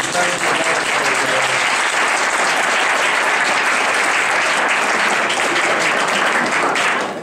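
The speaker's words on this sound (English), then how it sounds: "a big round of applause for both of these gentlemen." A large audience applauds loudly and continuously, dense clapping filling the room for several seconds before tapering slightly at the end.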